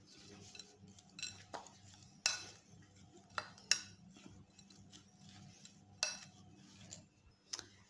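Chocolate chips being stirred into a coconut butterscotch mixture in a bowl, giving soft scraping and intermittent light clinks of a utensil against the dish, fairly quiet and sparse.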